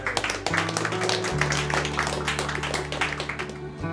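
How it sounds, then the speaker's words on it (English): Scattered clapping from a group gathered at a Mardi Gras series event, a patter of hand claps running under a voice as he speaks throughout. "I think that deserves like a big clap for"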